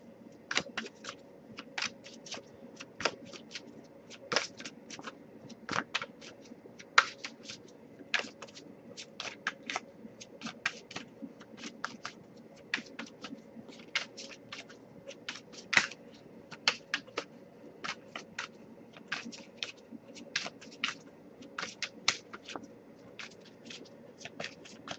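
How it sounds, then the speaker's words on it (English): Tarot cards are shuffled by hand in a quiet room, giving a steady run of soft, crisp riffles and taps that repeat through the whole stretch at close range with no talking. "I'll give it a couple more shuffles though, see if we get anything"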